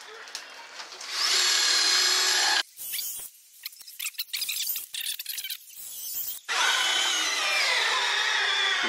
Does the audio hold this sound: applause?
no